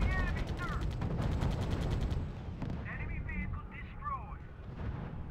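Artillery fire from the strategy video game R.U.S.E. rumbles as a dense, continuous barrage of booms and rapid gunfire, with faint radio-style voices speaking over the battle.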